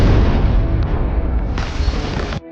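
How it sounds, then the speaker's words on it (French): A bomb blast in a James Bond film lands as a heavy, sustained boom with a rumbling roar and debris noise that cuts off sharply. "une explosion retentit soudain"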